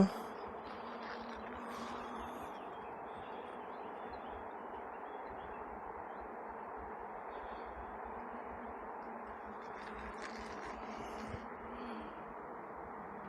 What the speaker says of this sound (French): Les abeilles sont calmes, douces.